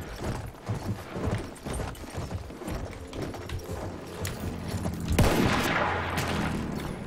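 Horse hooves gallop in Battlefield 1, a steady drumming of clip-clop beats mixed with scattered gunfire and booms across a battlefield, with a louder burst of shots near the end.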